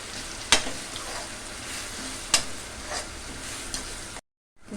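Stuffing mixture for stuffed brinjal curry fries in a little oil with a steady close sizzle, broken by two sharp clinks of a stirring spoon against the pan before a short silence at the end.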